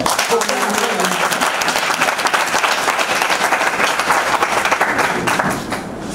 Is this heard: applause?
yes